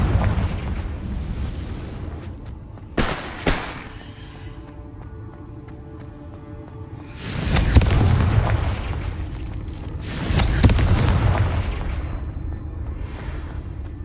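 Confringo blasting spells explode in the Hogwarts Legacy video game, several deep booming bursts with rumbling tails spaced over a quieter game background.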